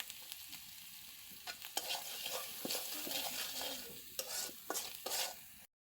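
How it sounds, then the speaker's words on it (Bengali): Curry spiced with chili powder and salt is sautéed in a pan, giving a soft continuous sizzle with scattered scraping stirs that grow busier midway, fairly quiet and close. "এটাকে খুব সুন্দরভাবে কষিয়ে নেব"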